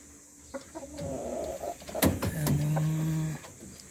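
Native chickens cluck and call at close range in a backyard flock, with a sustained rising-and-falling vocalization and scattered short clucks over light background noise.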